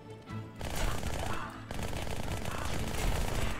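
Rapid automatic gunfire from weapons in the video game Halo: Spartan Strike, a dense continuous burst of shots that briefly breaks then resumes, with faint speech underneath.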